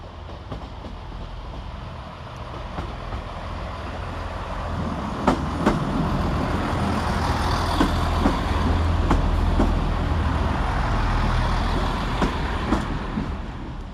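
Chiltern Railways class 165 diesel unit 165020 idling and moving at Stratford-upon-Avon station, a steady low engine rumble with occasional sharp clanks and rail clicks, growing slightly louder toward the middle.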